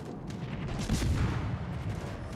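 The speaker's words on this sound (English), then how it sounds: "I take a big salvo from Veneto" Heavy naval gunfire in World of Warships as the Italian battleship Veneto lands a big salvo on a destroyer, a dense rumbling boom that swells near the middle and rolls on loudly to the end.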